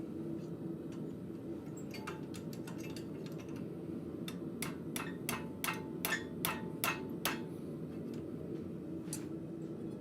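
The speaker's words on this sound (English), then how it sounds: "sometimes I have to go in here with a hammer just to get it a little bit tighter around this jig." A blacksmith taps a hammer on metal to tighten forged cloak pins around a jig, giving a series of sharp, light metallic clicks, sparse at first and then in a quicker run, over a steady low shop hum.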